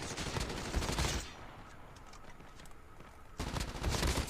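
A Type 25 rifle fires in a video game battle royale mode, with rapid automatic bursts at the start and again at the end and a quieter lull between them.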